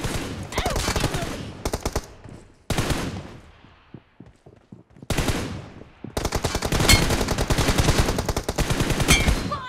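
Rapid automatic gunfire from the PUBG Mobile video game rattles in loud, dense bursts separated by short pauses, with brief quieter gaps between volleys and no talking.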